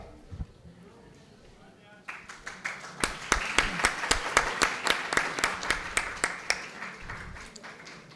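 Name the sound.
audience applause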